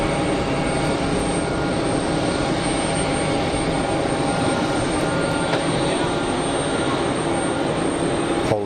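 A Polish Embraer jet on pushback at Geneva Airport gives off a steady, loud engine whine and rumble that holds throughout, with no speech.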